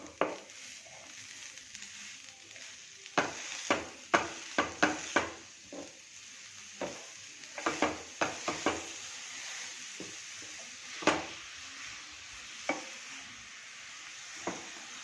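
Grated jaggery being stirred into modak filling in a pan, with soft scraping strokes and sharp spoon-against-pan knocks coming in irregular bursts, fairly quiet and close, with no voices.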